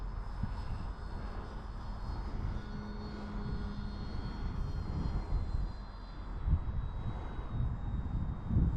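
An RC Prime Tundra bushplane on floats flies overhead, its steady electric motor drone holding close and continuous with gusty wind buffeting the microphone.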